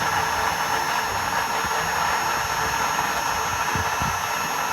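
A solar-powered automatic water pump set, model Station 2M, runs with a constant loud hum and whir that holds steady throughout, with a few faint knocks underneath.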